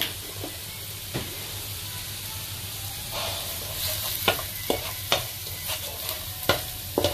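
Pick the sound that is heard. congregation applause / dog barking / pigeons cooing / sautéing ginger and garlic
sautéing ginger and garlic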